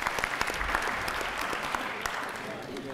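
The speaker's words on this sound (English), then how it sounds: "If I could ask everybody to give our panelists a round of applause" Steady audience applause for panelists at an energy resources summit, a continuous patter of many hands clapping at moderate loudness for the whole stretch.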